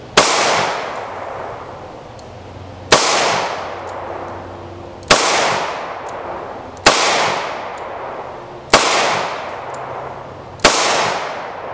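Six loud, sharp shots from a small-frame Rock Island Armory Model 206 .38 Special revolver ring out at steady intervals of about two seconds, each followed by a long reverberant decay outdoors.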